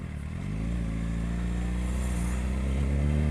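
A Suzuki GSX 750 motorcycle, a 750cc bike, rides through a sandy neighborhood street in Brazil, its engine holding a steady, loud, throbbing drone that swells slightly toward the end, with no talk.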